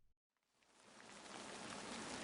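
Steady rain in a video game set in an old book town, rising from near silence into a broad, even hiss of falling drops that holds loud and continuous to the end.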